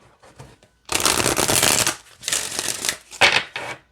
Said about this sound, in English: They shuffle just fine here as well.